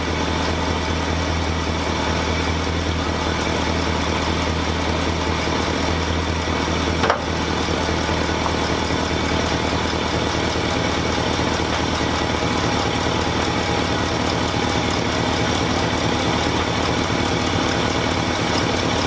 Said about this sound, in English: Didn't even need to apply the choke. Idles right out of the gate.